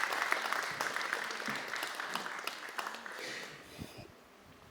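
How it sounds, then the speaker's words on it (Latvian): Audience applause at an adult education award ceremony, an even patter of many hands clapping in a hall that gradually thins and fades out toward the end. "Paldies ar aplausiem."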